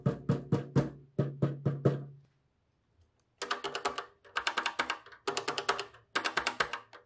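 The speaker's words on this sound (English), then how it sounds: "it does sound a bit hollow when typing" Bursts of rapid typing on a Maxi Switch keyboard of a Kaypro 4 Plus 88 computer with a hollow, clacky tone, in quick clusters of keystrokes separated by a brief pause.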